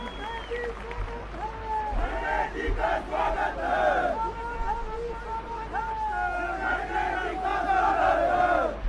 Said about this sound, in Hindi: आप लोग खुशी के पात्र जोरदार तालियों से इनका स्वागत और अभिनंदन करें